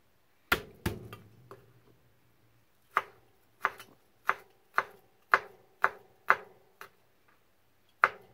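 A knife chops chayote on a board in crisp single strokes, a few scattered cuts, then a steady run of about eight evenly spaced knocks, close and clear without speech.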